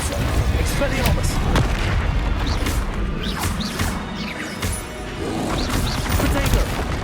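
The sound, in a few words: spell-casting combat explosions in the video game Hogwarts Legacy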